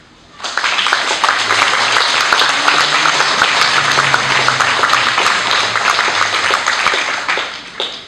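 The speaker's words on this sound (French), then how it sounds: "je voudrais qu'on les applaudisse en premier" An audience at an art exhibition opening in Pont-de-Vaux breaks into warm applause for the exhibiting artists, a dense, steady round of clapping that starts abruptly and lasts about seven seconds before tapering off.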